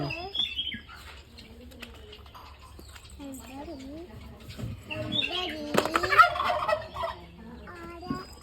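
Chickens and ducks clucking and quacking in bursts around a yard, mixed with people talking nearby and a flurry of louder calls toward the end.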